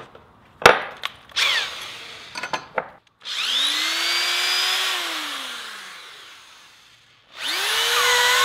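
A few sharp taps and clicks, then a power drill whirs up into a long rising and falling whine as it bores a 5/16 inch hole in a hockey puck, followed by another burst; close and loud.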